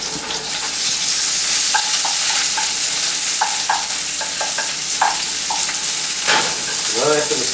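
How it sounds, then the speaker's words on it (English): Onion sautés in a hot pan with a steady loud sizzle. Frequent clinks of a utensil stirring sound over it. "Add our onion to the pan here."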